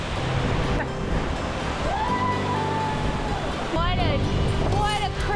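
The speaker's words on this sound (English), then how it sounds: "What a crazy waterfall." A 155 ft waterfall in Idaho roars as a steady, loud broadband wash close by, with people talking and exclaiming over it throughout.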